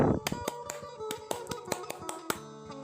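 Indonesian Pramuka scout clap led by a youth activity instructor: a rhythmic patterned sequence of sharp hand claps and taps, close and crisp, with uneven accents.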